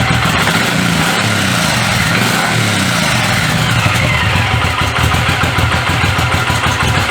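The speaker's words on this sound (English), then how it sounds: "I'll give it a bit of a squirt, you can hear it." Loud Suzuki Boulevard M109R motorcycle engine running nearby, the throttle blipped so the revs rise and fall in rough surges throughout.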